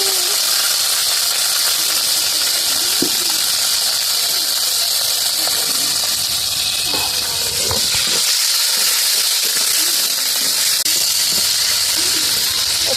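Green chili and tomato hit hot oil in a pan that already holds cinnamon, clove and cardamom, giving off a loud, steady sizzle and hiss that carries on evenly with small crackles and no talking.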